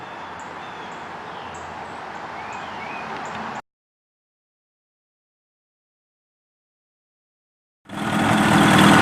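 A Kawasaki ZX7R motorcycle engine runs steadily with a fresh spark plug boot change, a close, even drone that cuts to silence for about four seconds and then returns just as loud.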